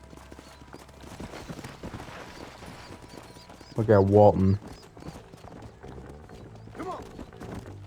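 Horse hooves galloping in the video game Red Dead Redemption: a rapid, rhythmic clip-clop running underneath character dialogue, with a louder burst of voices partway through.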